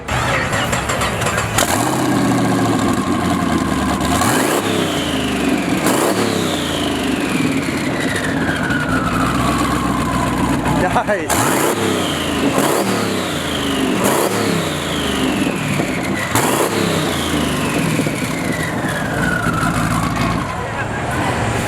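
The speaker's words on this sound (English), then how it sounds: "I'd love to hear this thing fire up." An LS1 V8-swapped Mazda RX-8 cranks and fires up at a drag racing event, then revs hard several times in sweeping rises and falls, loud and close, with a brief spoken remark.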